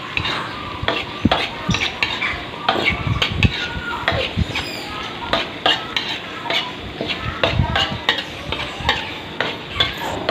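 Squid and shrimp stir-fried with fresh chili in a pan, with steady sizzling under repeated close, loud scrapes and clanks of a utensil stirring against the metal.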